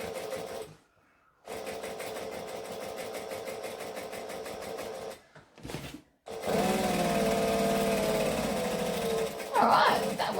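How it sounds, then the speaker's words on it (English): A sewing machine top-stitches a Celine bag in loud, close, rapid runs, pausing twice briefly before a longer stretch, with a voice talking at moments. "I've never sewed standing up before in my life, but for top stitching this bag"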